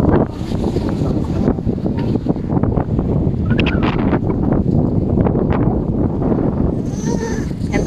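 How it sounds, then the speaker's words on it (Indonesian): Strong coastal wind at the Bangui windmills in Ilocos Norte roars steadily and loudly across the microphone, buffeting it throughout, with a faint voice briefly audible underneath. "Malakas ang hangin."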